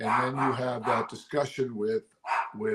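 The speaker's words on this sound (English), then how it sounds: "You can hear my dog in the background." A pet dog named Riley barks in the background of a room, the sound partly masked by someone talking steadily over it.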